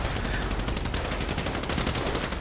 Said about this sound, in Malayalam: എല്ലാ സൈഡിൽ നിന്നും വെടിയാണ്